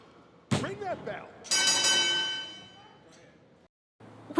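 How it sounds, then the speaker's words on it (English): Wrestling ring bell in the WWE 2K25 video game, a bright metallic clang ringing out and decaying over about two seconds, preceded and followed by a voice talking. "two, ring that bell"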